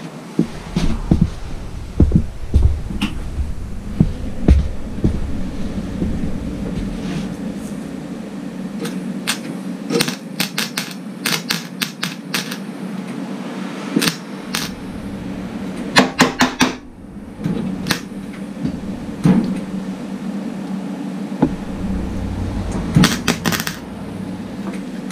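Welding on the door edge of a 1953 Ford F100 truck, with a loud steady buzzing drone broken by crackling bursts and stops, plus a constant hum underneath and no talking.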